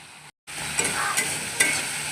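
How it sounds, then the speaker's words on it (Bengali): Mustard paste frying in a pan while being stirred, a dense close sizzle with scraping strokes of a spatula and a brief silent gap near the start. "একটু ভালো করে কষিয়ে নেব, বেশিক্ষণ কষাবো না, সর্ষে যেহেতু তেতো হয়ে যেতে পারে"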